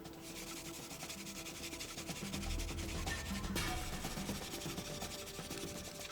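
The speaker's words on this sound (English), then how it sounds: "By rubbing the fire drill with his hands, Wang is transforming mechanical energy into heat energy." Steady, continuous rasping friction of a wooden fire drill rubbed by hand, wood against wood, fast back-and-forth strokes close up, with no voices.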